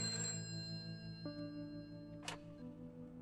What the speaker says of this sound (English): I'd like to make a phone call